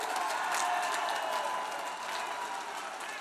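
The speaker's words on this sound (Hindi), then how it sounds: "आप सब भी हमारे देश के सुरक्षा बलों के लिए, हमारे देश के वैज्ञानिकों के लिए तालियां बजा करके उनका सम्मान कीजिए" A large crowd at a political rally in Jeypore applauds, a dense even wash of clapping at moderate distance that holds steady and eases slightly toward the end.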